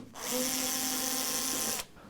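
A power tool whirs steadily for about a second and a half while removing screws from the metal case of a Prophet 5 synthesizer, close and fairly quiet with a clean start and stop.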